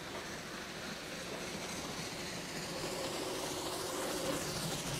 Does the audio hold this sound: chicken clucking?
no